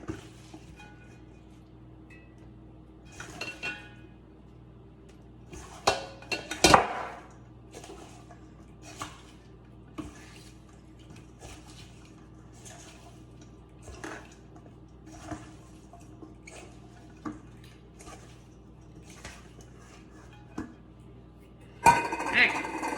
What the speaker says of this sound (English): All right, and then mixing up my broccoli as well.